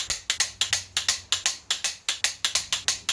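A ratchet wrench torques the cylinder head bolts on a used Ford 351W V8 engine, clicking in a quick, steady run of about eighteen sharp, close ticks with no talking.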